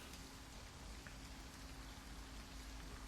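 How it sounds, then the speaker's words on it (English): Rain falling through a missing roof onto computer equipment in the video game Shadowrun Hong Kong, a faint, steady patter and hiss with a low hum underneath, no talk. "all this computer equipment is just being rained on"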